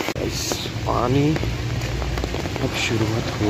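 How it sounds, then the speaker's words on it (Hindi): Heavy rain falls in a steady, dense hiss close by, with someone talking over it throughout. "इतना जोर का अब बारिश आया ना"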